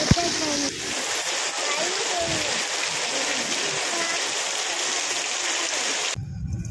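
Steady, dense monsoon rain hiss pours down continuously, fairly loud, with a voice speaking faintly underneath; the noise thins abruptly near the end.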